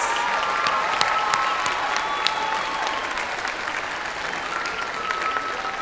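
Steady, sustained applause from an audience at an eighth grade school recognition ceremony, filling the room at even strength with a few sharper individual claps standing out.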